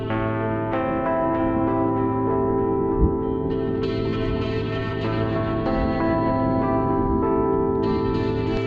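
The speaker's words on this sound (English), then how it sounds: "What you hear now is the voice of a black hole." A NASA sonification of a black hole, made from pressure waves turned into sound, plays as a dense, sustained, layered drone with shifting harmonic tones and a reverberant, echoing feel. It continues steadily with no voices.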